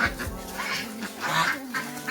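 A drake calls in a series of nasal quacks, about five or six in quick irregular succession, fairly close and alone with no talk.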